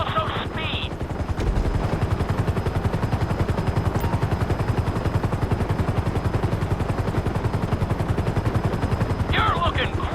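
Helicopter rotor in Grand Theft Auto V, a steady loud rapid thudding chop sustained through the whole stretch, with brief higher tonal game sounds at the start and end.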